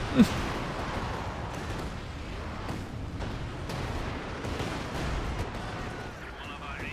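Continuous rumbling barrage of rocket and artillery fire in a Company of Heroes 2 4v4 battle, with a sharp blast at the start and dense overlapping explosions throughout, under a commentator's voice.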